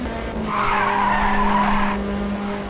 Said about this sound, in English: I've never seen a drift like that.